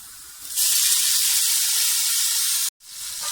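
Chopped tomatoes dropped into dark-browned frying onions for a vegetable yukhni pulao: a loud, close sizzling hiss bursts up and holds, briefly cuts out, then resumes.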